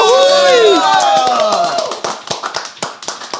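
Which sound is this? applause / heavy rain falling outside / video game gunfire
applause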